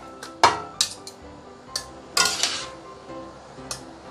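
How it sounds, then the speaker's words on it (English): A metal lid set onto a cooking pot in a home kitchen while beehoon soup with belt fish is made: a few sharp, close clanks and clinks, scattered across a few seconds with quiet gaps between them. "cover this with a lid and leave it aside"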